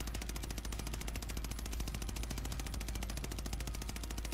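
Rapid automatic gunfire from a Call of Duty Warzone battle royale match, a steady unbroken stream of shots fired close and loud for the whole stretch with no talking over it.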